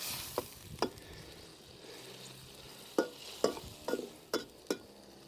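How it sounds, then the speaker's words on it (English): Pork belly adobo simmers in a pan over an outdoor fire, a soft steady bubbling bed broken by sharp clinks and scrapes of a utensil against the pan, some spaced and some in quick pairs. "Just let that simmer until it reduces and starts to thicken naturally."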